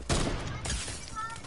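A brief sharp gunshot opens a short stretch of Fortnite combat, followed by lingering blast and game noise, fairly loud and close.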